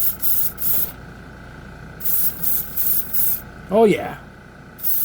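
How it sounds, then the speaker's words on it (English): Black color shift paint is sprayed from an airbrush in several short, even hissing bursts close by, separated by brief pauses, with a person speaking briefly near the end. "These should be sprayed over and let the magic happen."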